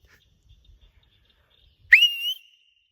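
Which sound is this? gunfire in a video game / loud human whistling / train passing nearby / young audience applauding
loud human whistling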